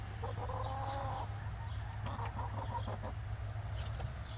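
Backyard chickens at a city homestead cluck softly in a few short bursts over a steady low hum, fairly faint and unaccompanied by talk.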